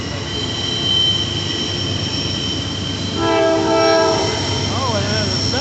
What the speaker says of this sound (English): Oh, and there's a second train.